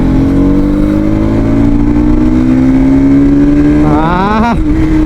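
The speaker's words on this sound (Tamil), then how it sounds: "நம்ம வண்டி சவுண்டு கேட்டு ரொம்ப நாளாச்சு" An NS motorcycle engine revs hard close by, holding a loud steady droning tone with rising pitch before a quick sharp blip up and drop near the end.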